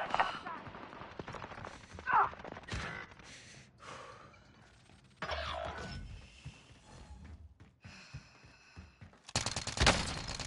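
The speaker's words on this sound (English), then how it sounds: "I'm taking shots!" Gunfire in the shooter Call of Duty Warzone: scattered bursts and single shots at varying distance, with sharp loud volleys near the middle and end over a shifting game soundscape.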